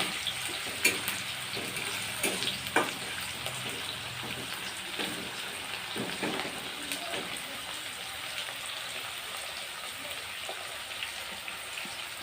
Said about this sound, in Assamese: তো এতিয়া পিঁয়াজখিনি সিজিবলৈ দিম অকণমান